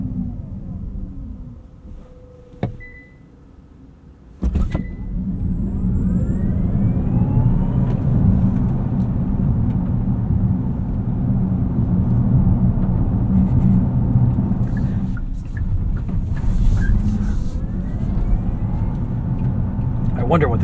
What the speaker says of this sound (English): Let's try another launch control